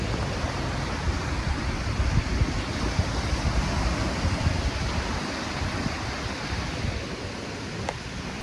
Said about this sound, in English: We are currently just stood by the sea listening to the waves crashing